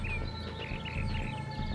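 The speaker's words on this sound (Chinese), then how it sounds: "多么好听的鸟叫声！" Birds chirp and trill in the scenic hills and waters of a hometown countryside, with short bright calls repeating over a steady low background hum.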